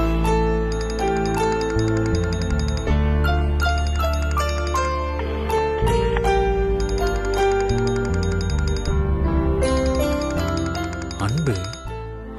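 A phone rings in a Tamil TV serial scene, a bright, steady electronic ringtone melody that repeats over a loud, continuous musical background throughout.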